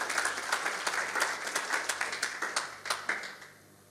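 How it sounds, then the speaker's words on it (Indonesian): A church congregation claps steadily for a few seconds at a Christmas Eve service, a dense patter of hands that tapers off near the end, with no talking. "Tepuk tangan dulu untuk Tuhan."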